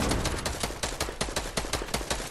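Rapid automatic gunfire in Fortnite, a fast, close stream of sharp, evenly spaced shots that runs without a pause.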